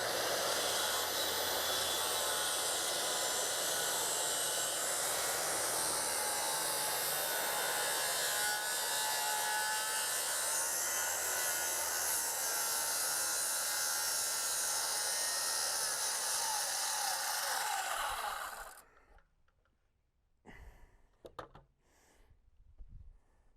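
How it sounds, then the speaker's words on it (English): A circular saw with its depth reduced cuts a 2x4 deck stair stringer, a sustained loud whine that runs for about eighteen seconds and then stops, followed by a few brief knocks and handling sounds. "Now that I have my cuts with the circular saw done"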